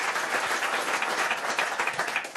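A comedy club audience claps and applauds in a thick, sustained wash of hand claps, loud and unbroken from start to finish, with no voices on top.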